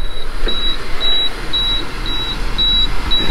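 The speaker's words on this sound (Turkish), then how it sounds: "Bip bip sesini duydum, buraya geldim." A car's interior after an apple-scented Divortex air conditioning cleaning bomb has been set off, with short, steady high beeps repeating evenly about every half second over low background hum.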